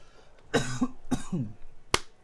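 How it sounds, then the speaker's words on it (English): Two harsh, throaty coughs close to the microphone, followed by a sharp click, with no talking. "Excuse me while I cough my brains out"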